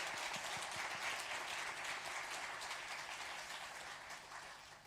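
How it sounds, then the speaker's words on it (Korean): A church congregation applauds during a Sunday worship service after a baptism is proclaimed, a steady wash of many hands clapping in a large room that slowly tapers off, fairly quiet and a little distant. "박수로 하나님 앞에 영광 돌리겠습니다."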